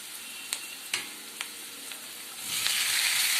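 Taro root pieces tossed into hot oil for a Telugu chamadumpala fry, a few sharp clacks as they drop in, then a sizzle that swells into a loud, steady frying hiss, close by with no talking.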